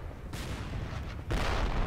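A powder keg exploding in a video game, heard as two dull blasts about a second apart, each a broad burst of noise, the second stronger and sustained.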